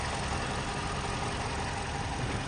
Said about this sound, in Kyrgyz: Жакшы иштеп турат. Мотору сонун иштеп турат.